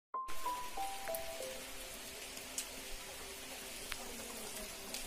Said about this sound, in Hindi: बारिश लगना स्टार्ट हो चुका है